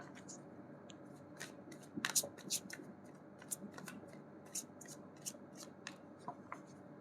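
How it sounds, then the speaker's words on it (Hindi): Tarot cards being shuffled tumble out of the deck, making faint light slaps, flicks and papery taps in scattered bursts, close and quiet against a soft background. "इतने सारे कार्ड गिर गए।"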